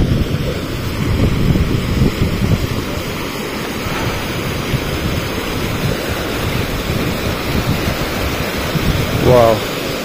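A muddy mountain river swollen with rain water rushes beside a property in a Himalayan valley, a steady loud broadband roar throughout, with wind noise and faint voices underneath.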